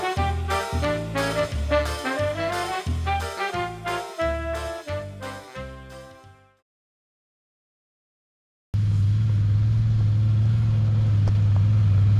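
A four-wheel drive vehicle heads off-road on a camping trip on the NSW South Coast; its engine and road noise form a steady, loud, low rumble after a stretch of rhythmic music and a short silence.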